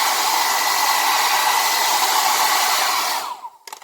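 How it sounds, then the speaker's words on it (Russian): A hair dryer blows steadily and loudly, used to dry a watercolour painting sprinkled with salt, a continuous close whoosh that cuts off near the end. "я сейчас буду сушить фен"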